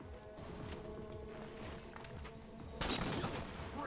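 A sniper rifle fires in the Halo 4 competitive multiplayer game, one sharp, loud blast late in the clip, preceded by rattling distant gunfire and game ambience.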